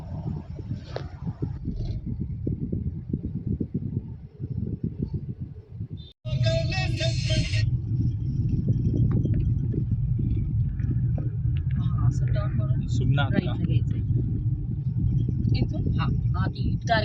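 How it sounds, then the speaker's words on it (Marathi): Car creeping slowly through heavy highway traffic, a steady low engine and road rumble from inside the cabin, with a brief higher burst midway and faint sounds over the hum. "जाते हळूहळू गाडी."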